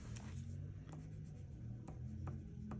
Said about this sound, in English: you are going to start out with writing your name at the top of the paper